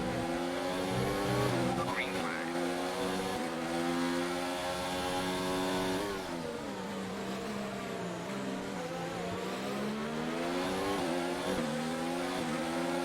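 Formula One race car engine in the F1 2019 video game, a continuous high-pitched wail rising and falling through gear changes and corners, loud and close, with a voice talking over it at times.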